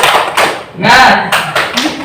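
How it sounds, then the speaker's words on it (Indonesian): Tepuk semangat spirit clapping in a classroom lesson: several sharp hand claps in a quick rhythmic pattern, loud and close, with people speaking alongside. "Ini namanya tepuk semangat."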